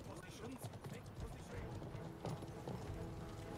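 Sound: horse hooves clip-clopping in the video game Conqueror's Blade

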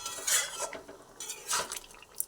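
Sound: stirring a simmering green pea curry in a pot

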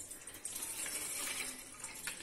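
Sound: milk being poured into a pot on the stove

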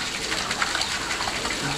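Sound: water pouring in a fountain

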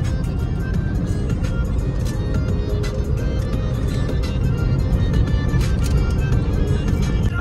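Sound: heavy road traffic, cars passing

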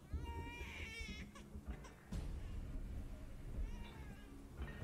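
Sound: baby crying in video game Where Winds Meet

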